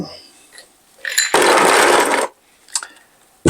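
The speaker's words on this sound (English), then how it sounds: "First, you open the lid, you add some ice into it." Ice is tipped into a beverage can cooler, a burst of clattering, crunching cubes lasting about a second, close and loud, framed by a few short clicks and knocks of the lid.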